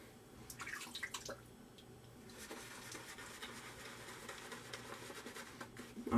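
Water is added to a shaving brush during a face-lathering shave, light dripping and trickling patter up close, with soft wet brush sounds and no talking.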